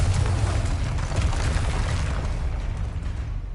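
A Confringo spell explodes in the Hogwarts Legacy video game as a dense, booming blast whose heavy low rumble stays loud and steady for a few seconds, with no voices over it.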